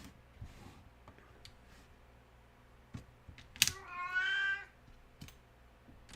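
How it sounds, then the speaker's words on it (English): A house cat lets out one loud, drawn-out meow midway, rising over a quiet room with scattered light clicks and taps before and after. "It's a loud cat, and that's not even her normal loudness."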